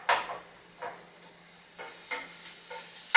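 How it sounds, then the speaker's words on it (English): Garlic sizzles in hot oil in a pan, a steady crackling hiss broken by several clinks and scrapes of stirring against the pan, heard close up with no talking. "Just give that a little sizzle, we want it out and in our instant pot."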